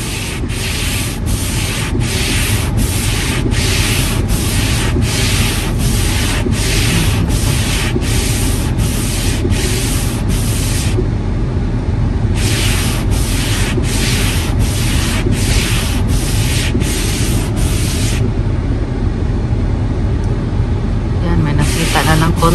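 Spray hissing onto an iced-over car windshield and a scraper clearing it, steady loud rasping strokes in a regular rhythm, pausing briefly midway, close up with occasional talk.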